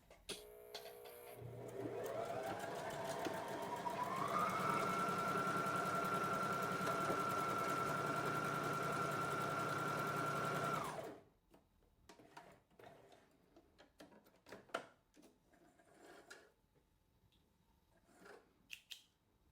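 A sewing machine stitches a buttonhole, running at a steady high-pitched whir that rises as it speeds up and holds for several seconds before stopping, followed by faint clicks and handling noises.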